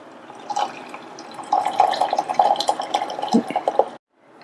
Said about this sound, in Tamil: இந்த வெந்த ஜவ்வரிசியோட நம்ம வத்த காய்ச்சின 1 கப் பாலை சேர்க்கிறேன்